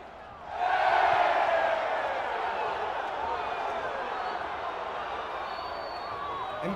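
Crowd noise from regulars packed into a neighbourhood bar watching a France–Spain football semi-final, a dense roar of voices swelling sharply and then holding as a steady, loud din.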